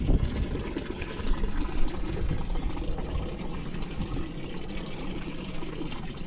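Water gushes and splashes while being poured for a dog to drink outdoors, a steady close liquid rush with no speech.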